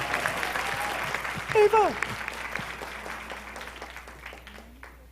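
Audience applause at a summit, a steady broadband clapping wash running under a speaker's voice throughout, with a brief whoop and cheer mid-clip and the clapping slowly fading toward the end.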